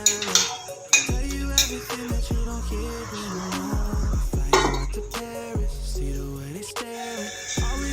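A lid settles onto a pot of fish curry on a low gas flame, with several metallic clinks and ringing knocks scattered across the stretch, close and fairly loud.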